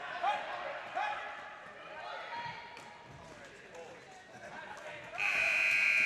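A loud period-end buzzer sounds steadily over the last second at a women's world championship ball hockey game, USA versus Great Britain, after arena crowd noise, ball bounces and a commentator talking.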